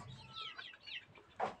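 Several Golashila desi chicks and hens give faint, scattered clucks and cheeps, ending in one slightly louder call, with no voice present.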